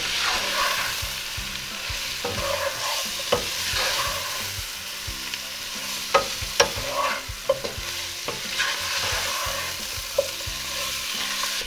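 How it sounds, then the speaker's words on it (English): Powdered spices searing with chicken pieces in a pan for chicken pulao, giving a continuous sizzle broken by scraping stirs and sharp utensil knocks, close and fairly loud with no voices. "let those powder spices sear just for a few minutes"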